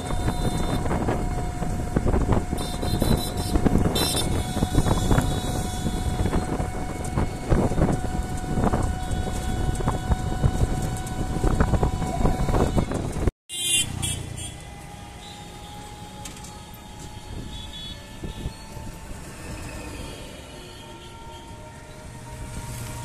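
A ride in a tuk-tuk auto-rickshaw gives a continuous rattling, rumbling engine roar with heavy wind buffeting, loud and close, then after a brief cutout the road noise becomes quieter and smoother.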